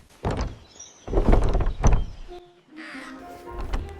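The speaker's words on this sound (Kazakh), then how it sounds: "Қасқыр есікті соғып" A cartoon wolf knocks on the goats' house door in the Kazakh fairy tale of the seven kids: a few heavy, dull thumps close up, followed by quieter tonal sounds.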